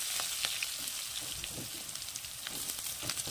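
Vegetables sizzle and crackle in hot oil seasoned with nigella seeds and green chili, a close, soft, steady frying hiss with scattered pops and no talk.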